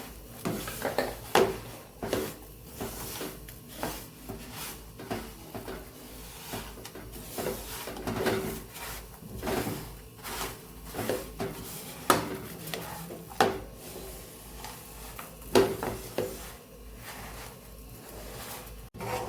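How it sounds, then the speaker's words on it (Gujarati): Dates, sesame seeds and dry fruits are mixed in a pan over a low flame, with steady spoon scrapes and occasional knocks against the pan running throughout, close and moderately quiet. "ગેસ સાવ ધીમો જ રાખેલો છે બધું સરસ આપણે મિક્સ કરી દેવાનું છે"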